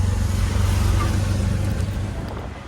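An auto rickshaw ride toward the station in Vasai, heard as a steady low engine drone and road rumble from inside, easing slightly toward the end.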